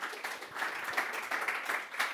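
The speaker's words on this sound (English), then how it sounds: "Applause for David, please." Audience applause follows a conference talk on using VR for remote work, a short burst of scattered clapping that stays moderately loud and steady for about two seconds.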